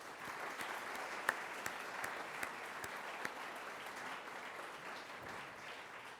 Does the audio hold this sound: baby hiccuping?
no